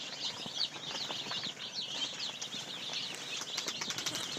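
Young chicks in a brooder chirp steadily and contentedly, a dense flock of high, overlapping peeps with occasional soft wing flutters, moderately close and continuous with no talking.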